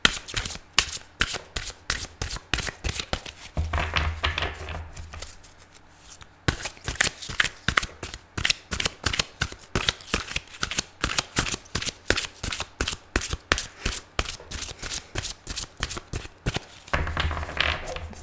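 Tarot cards are shuffled in a steady run of crisp riffling bursts, with a brief pause midway before the rapid shuffling resumes, close and clear with no talking.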